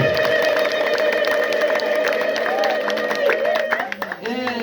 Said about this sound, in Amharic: ለዚህ ጌታ እልልታና ጭብጨባ ይገባዋል